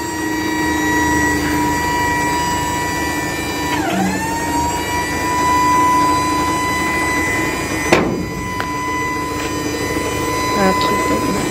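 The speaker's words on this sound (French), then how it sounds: "C'est pour lever la benne. On va lever la benne." A Renault Master tipper body rises on its hydraulics, giving a steady loud mechanical whine and hum with a pitch dip partway through and a brief knock near the end.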